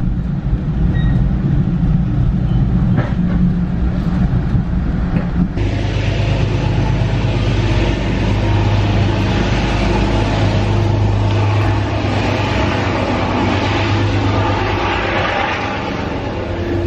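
A Metro-North commuter train rumbles steadily throughout, loud and close from onboard, with a deep continuous drone and a shift in pitch partway through, with no voices.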